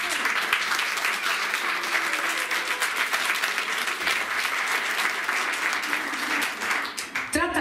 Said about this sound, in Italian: Un forte applauso per Giovanni Locuccio!